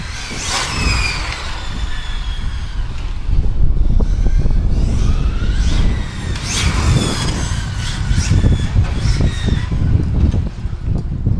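A small high-revving engine of a HOBAO Hyper VTE2 RC car screams loudly and continuously at full throttle, pitch rising and falling in sharp bursts, with wind rumble underneath.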